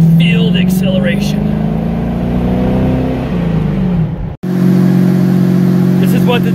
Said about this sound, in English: what the Diablo sounds like when it's warming up. It is not a quiet car.